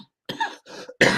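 A person coughs in sharp bursts, a brief hack followed by a longer harsh fit and a final loud cough, close and alone with no talk over it.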